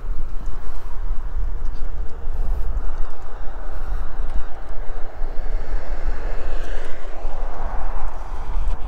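A DYU V1 stem-folding electric scooter is ridden outdoors, with a constant loud rumble of wheels and wind buffeting the microphone and no pauses.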